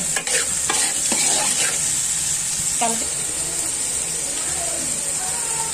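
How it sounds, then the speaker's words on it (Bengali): Green peas fry in a pan for a pilaf, giving a steady sizzling hiss throughout, with a few scraping stirs and utensil knocks near the start. "দিয়ে আরেকটু 2 মিনিটের মতো আমি এটা ভেজে নিব, যেন মটরশুঁটির যে গন্ধটা আছে গন্ধটা যেন না থাকে, ভাজা ভাজা মতো।"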